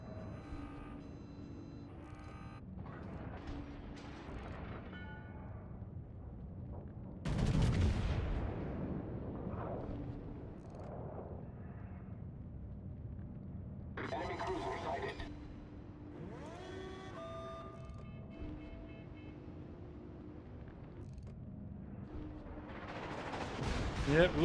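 Naval gun salvos in World of Warships, a Montana battleship firing: deep booming blasts with rumbling tails and later explosion-like bursts, spread over a steady background of game sound.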